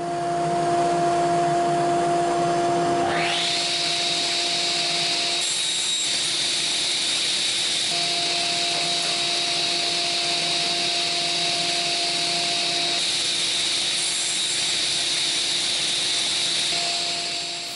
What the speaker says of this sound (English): So I cut the pieces I need first to width and then to their appropriate length.